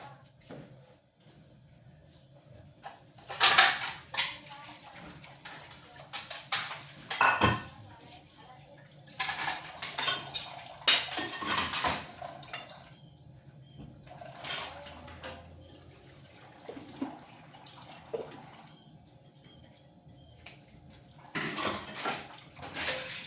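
Dishes being washed by hand in a kitchen sink, with intermittent clinks of plates and cutlery, splashing, and running water in irregular bursts, fairly close and moderately loud.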